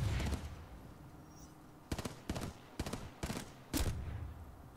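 Gunfire in Titanfall 2: a few sharp, separate bursts of shots crack out at irregular intervals after a short noisy opening, moderately loud against a quiet background.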